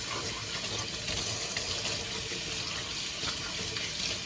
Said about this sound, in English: And get all the parts rinsed out good.